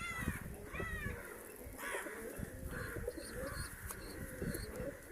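Birds at a nest give soft repeated coos and calls, fairly faint over low background rustle and murmur.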